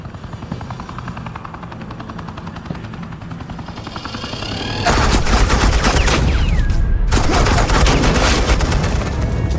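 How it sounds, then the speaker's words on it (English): Sustained automatic suppressing fire from a video game, Batman: The Enemy Within, bursts in loudly midway after a rumbling, helicopter-like engine drone, then continues as dense, near rapid gunfire with a brief gap. "suppressing fire"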